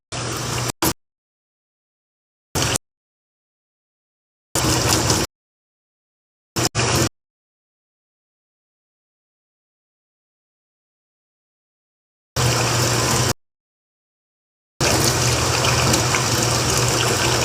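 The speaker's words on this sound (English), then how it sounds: "See if I can fill this with the water like this." Water pours into a container in short gushes separated by silences, then runs in two longer steady streams near the end, close and fairly loud with no talk.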